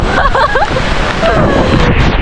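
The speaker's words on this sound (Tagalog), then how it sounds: "Tapos sobrang laki ng alon." Strong wind buffeting the microphone and big sea waves crashing at a beach during a storm, loud and rough, with a voice exclaiming over the noise.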